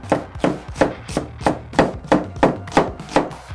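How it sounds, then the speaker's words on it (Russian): A knife dices an onion into small cubes on a cutting board, about ten crisp, evenly spaced chops, close and loud with no voices. "И нарезаем его мелким кубиком."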